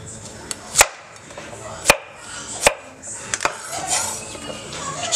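A knife chops vegetables for a stir fry on a cutting board, giving several sharp, close chops at uneven intervals with a little clatter of dishes in between.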